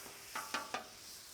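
Thin-sliced Philly cheesesteak meat sizzles quietly on a flat griddle, a soft steady hiss broken by three quick scraping spatula strokes in a row; nobody speaks.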